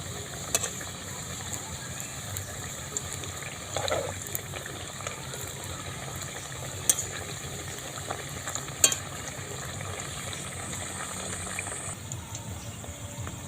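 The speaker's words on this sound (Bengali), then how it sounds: "এরকম অল্প আঁচে দিতে হবে লবঙ্গ লতিকাগুলো দিয়ে ভেজে নিতে হবে" Lobongo lotika, a Bengali sweet, fries gently in oil over low heat, a faint, steady, soft sizzle with a few small pops and no speech.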